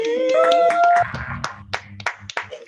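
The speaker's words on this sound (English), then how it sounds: "Let's give a round of applause" A few scattered hand claps from a dive bar comedy show audience, sparse and uneven, following a sustained voice-like tone at the start.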